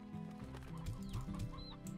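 Hens clucking in the ranching game Slime Rancher, several short clucks and chirps over a steady bed of game music and ambience, with no talking.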